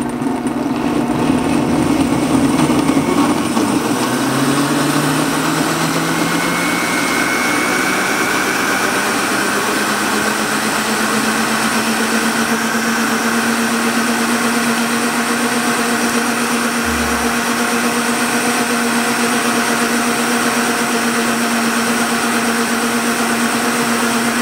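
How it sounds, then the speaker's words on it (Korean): Countertop blender whirring loudly as it purees fruit with fermented vinegar and plenty of water for a cocktail, a steady motor drone that settles into an even pitch after the first few seconds, with no talking. "일단 믹스로 한번 갈아 보겠습니다"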